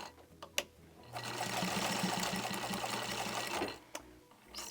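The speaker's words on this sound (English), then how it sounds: "when I come to the end, I'm going to reverse to reinforce that stitch." Sewing machine stitching the end of a seam on a Christmas hand towel and reversing to reinforce it: a steady, close mechanical whir with a fast rhythmic chatter lasting about three seconds. Brief clicks come before and after it, and no one speaks.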